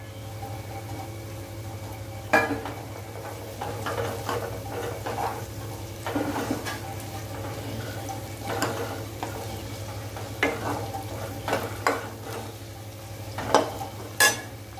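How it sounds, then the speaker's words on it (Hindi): Onion, ginger and garlic sautéing in a pan for an aloo methi sabzi, a steady low sizzle with a constant hum beneath and intermittent scraping stirs and clinks of a spoon against the pan, no talking. "इसको भी अच्छा सा सोटे करेंगे, भून लेंगे ताकि इसका अदरक का कच्चापन खत्म हो जाए"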